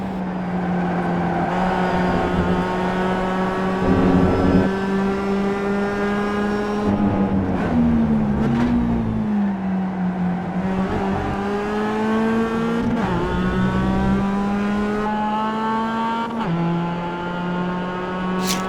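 A race car engine held on the throttle in the iRacing sim, a loud continuous whining drone that shifts pitch up and down through gear changes and corners, steady and unbroken with no voices.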